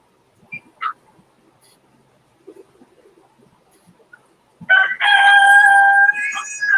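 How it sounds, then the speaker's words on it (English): A rooster crows once loudly and close, a long drawn-out call after several seconds of near silence broken by a few faint clucks and small sounds. "that rooster's getting it. Wow. Very vocal."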